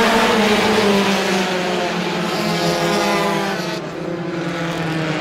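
Roadrunner-class race cars roaring around Star Speedway as a 25-lap championship feature gets underway, a dense loud wall of engines accelerating together, fading slightly as the pack moves off.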